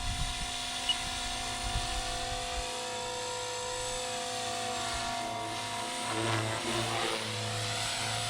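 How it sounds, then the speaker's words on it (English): A MINT Blade 300 CFX RC helicopter flying in wind, its electric motor whining steadily at a moderate distance, then dipping and straining as the ESC bogs down under load, no talking over it. "you can actually hear that ESC bogging down there"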